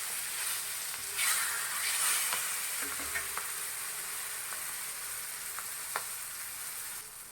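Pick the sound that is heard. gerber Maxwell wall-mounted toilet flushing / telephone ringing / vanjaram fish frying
vanjaram fish frying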